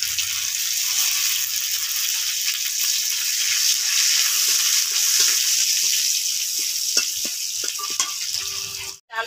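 Whole cumin, five-spice, bay leaf and chopped garlic fry in hot oil in a pan, a loud, steady sizzle throughout with faint stirring clicks near the end.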